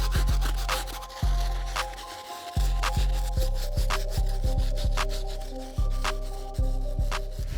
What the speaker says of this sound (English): right now I am just gonna jump into our stiff bristle brush